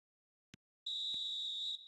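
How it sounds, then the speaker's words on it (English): A referee's whistle for half-time in a football video game, a single steady shrill blast lasting about a second, clear and loud after a couple of tiny clicks. "And the whistle goes for half-time."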